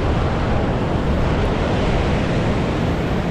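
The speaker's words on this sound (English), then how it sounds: "The dam is releasing the water." Loud, steady rushing water roars continuously without pause, a dense broadband torrent pouring through a dam's open gates on the Chattahoochee River at Phenix City.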